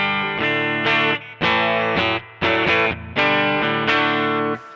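Electric guitar played through a Koch Studio Tone 20 amp on its clean channel rings out in a series of sustained chords and notes with short gaps between them, heard alone and fairly loud.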